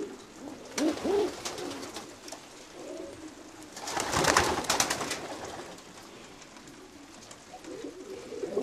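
Racing pigeons coo repeatedly in a loft, soft throaty calls rising and falling, with a louder burst of overlapping coos midway and no talking.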